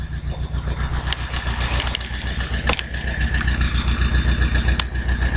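A warmed-up tractor engine idles steadily at an olive harvest, a close, loud, low rumbling throb with a few faint clicks and knocks over it.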